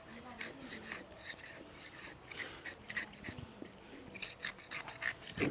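Scraping and rasping strokes of a knife working through a large 130 kg fish outdoors in front of a house, repeated rough cuts at close range with steady rhythm and no talk.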